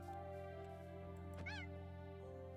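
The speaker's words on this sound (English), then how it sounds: "look, a cat" A cat meows in a Minecraft-style survival game, one short rising-falling meow over steady game music and ambience, moderately loud.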